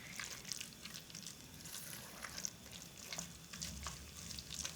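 Lamb sears in a thick spice paste in a pan over raised heat, making a close, bubbling sizzle with sputters and stirring scrapes, fairly quiet and with no talking.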